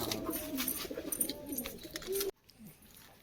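Birds calling and cooing over a busy outdoor background in Kozhikode, with soft pigeon coos up close; the din cuts out abruptly near the end, leaving a faint coo.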